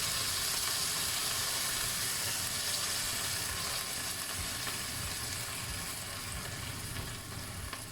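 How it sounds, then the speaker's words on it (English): Vegetables sizzle and fry steadily in a pan while being prepared for braised beef cheek, a continuous close crackling hiss with faint stirring and no talk. "we are frying the vegetable so long"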